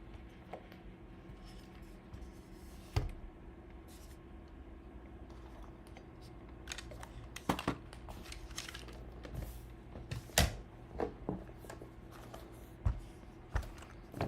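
Quiet clicking and tapping on a computer keyboard, with sparse irregular keystrokes and a few sharper clacks under a low room hum.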